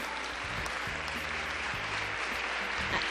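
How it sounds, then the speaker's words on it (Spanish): Audience applause at an international women's and leaders' forum in Mexico, a dense steady roar of clapping that fills the whole stretch, with faint voices and low murmurs underneath. "Ese aplauso se lo merece Dios"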